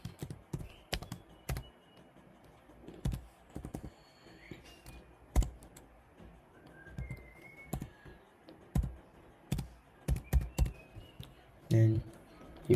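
Someone types a Ghana card number on a computer keyboard: quick, uneven clusters of close key clicks with short pauses between bursts.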